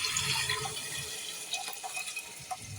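Soaked rice and lentils are tipped into a pot along with their soaking water for dal khichdi, making a soft, steady liquid pour and splash that fades toward the end.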